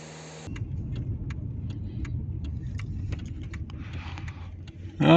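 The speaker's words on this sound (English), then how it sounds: "we've got a few cars coming down from over there" Cars drive past on a road, with a steady, moderately loud engine and tire rumble that holds throughout and swells at the very end.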